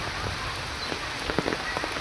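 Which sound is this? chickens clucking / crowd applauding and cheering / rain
rain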